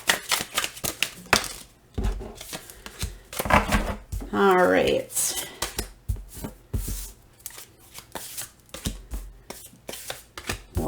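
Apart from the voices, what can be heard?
shuffling tarot cards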